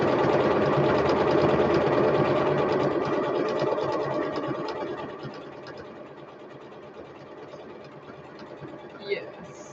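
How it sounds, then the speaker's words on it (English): Sewing machine running decorative stitches, a steady mechanical whir that is loud at first and then eases to a quieter hum, with a brief knock near the end. "So you just sew as many decorative stitches on as you would like."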